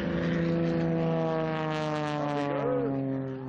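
An AT-6 Texan propeller plane drones steadily overhead during an aerobatic air show, a loud, sustained engine hum with a slowly shifting pitch as it rolls along the flight line.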